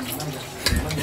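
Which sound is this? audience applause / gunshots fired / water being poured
water being poured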